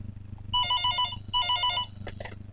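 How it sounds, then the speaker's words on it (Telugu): A telephone bell rings in two bursts of rapid trilling tones separated by a short pause, clear and close over a low background hum, followed by a few soft knocks. "ఫోన్ వచ్చింది."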